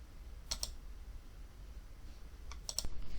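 A couple of quick computer mouse clicks, then another short cluster near the end, crisp and close against faint room hiss while someone navigates a bird-survey square map on screen.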